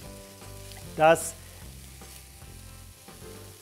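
Vegetables sautéing without fat in a hot pan give a steady low sizzle, with a brief louder hiss burst near the start, while a person talks over the cooking.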